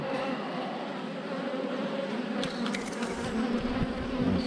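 A steady, dense buzzing of honeybees fills the whole clip, close and continuous, with no voices.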